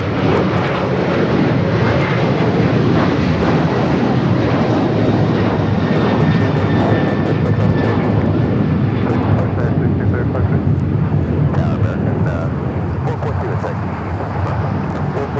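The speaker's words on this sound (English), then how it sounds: "That flight taking off here on the south side" An airliner takes off from the south side of LAX with a loud, sustained jet roar that dominates throughout, easing slightly toward the end, while a voice talks over it.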